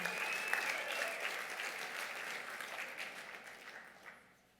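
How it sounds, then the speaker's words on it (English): Audience applause for award winners at an Emmy ceremony, a full wash of clapping at moderate level that holds steady and then tapers off sharply at the end. "let's give them a round of applause"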